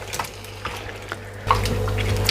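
Blitzed tomato puree stirred into a potato curry in a pan: soft wet squelching and a few light clinks of a spoon against the pan, growing slightly louder and wetter partway through.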